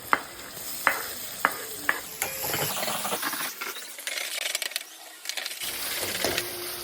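Chopped tomatoes added to softened onions in a pan for sev usal, with a few sharp clinks of a spoon against the pan, then soft stirring and a low, fading sizzle.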